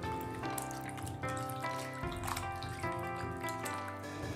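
Salted radish is rinsed in clean water in a kitchen. Water pours and splashes steadily from a tap into a sink or bowl, with brief clatters and sloshes as the radish is handled.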